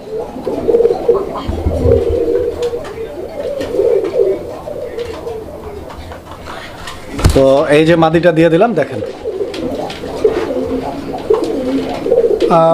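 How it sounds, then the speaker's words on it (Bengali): Pigeons coo nearby in soft rolling bursts while someone talks over them, and a louder, sharper stretch of calling stands out near the middle. "কবুতর দেখেন, ডাক দেখছেন একদম 100 ডাক"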